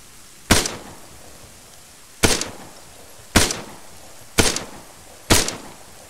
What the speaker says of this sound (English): I think there's more shots.